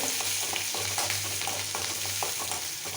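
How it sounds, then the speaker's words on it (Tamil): Chopped onion and chilli sizzle steadily in a hot pan, with quiet scraping and stirring sounds over the constant frying hiss and no voices. "இந்த வெட்டி வச்சுருக்க வெங்காயம் மிளகா இதை போட்டாச்சு போட்டு நல்லா கிண்டி விட்டாச்சு"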